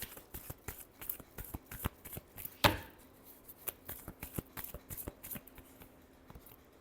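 Tarot cards riffle and patter in quick irregular flicks, close and soft, with one sharper slap of the deck midway through, no voices.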